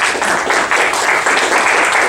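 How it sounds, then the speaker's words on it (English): An audience at a candidate forum gives the two speakers a round of applause, dense and steady clapping close by throughout. "Let's please give a round of applause for these two speakers."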